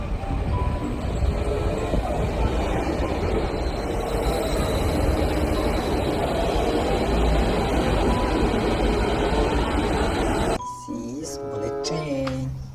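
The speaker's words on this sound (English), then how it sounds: "bullet train." A bullet train rushes past close by in a loud, continuous roar with a high whine on top, then cuts to a quieter passage with shifting tonal sounds near the end.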